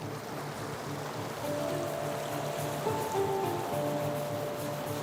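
Steady rushing river water where the Molina and San Francisco rivers meet, a continuous broad wash heard up close with no break.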